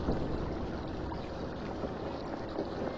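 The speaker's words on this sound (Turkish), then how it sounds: "Su sesi şu anda sürekli su çıkarıyor." In the horror video game Evil Nun, a water sound caught in a loop plays as a continuous, even rush of flowing water, with no break and no talk.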